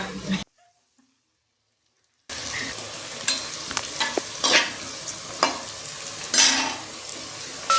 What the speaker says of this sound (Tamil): உருளைக்கிழங்கு, கேரட் எல்லாம் வதக்கிட்டு அப்புறமா தேவையான மசாலாலாம் சேர்த்து